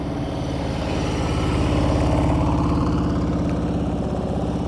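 A Harley-Davidson Road King motorcycle idles at a motorcycle rodeo, its engine giving a loud, steady, close rumble with an even pulsing beat that holds throughout and carries no voices.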